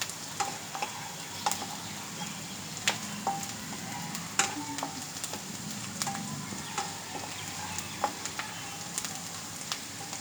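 Onion frying in an oil tempering for a cabbage dish makes a faint, steady sizzle. Scattered light pops and occasional utensil clicks sound close, with no one talking.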